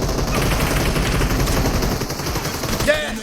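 Rapid bursts of gunfire in the mobile battle-royale game PUBG Mobile, loud and dense throughout, with brief voice-like sounds near the end.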